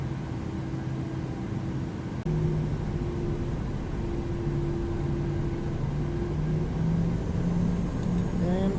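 Airliner engines on the KMSP to KDEN flight spool up for the takeoff roll, a loud steady roar with rising tonal whine heard from inside the cockpit, constant and close.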